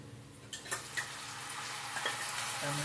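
Tomatoes dropped into a hot frying pan, a soft steady sizzle with a few sharp clatters as they land and get stirred, moderately faint, with a low background hum.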